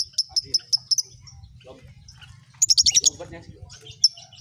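Small village bird chirping in a cage, quick bursts of high, sharp tweets in short rapid series separated by pauses, close and clear over a low background hum, with faint talk underneath.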